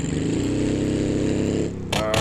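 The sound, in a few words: car engine with broken-off exhaust, louder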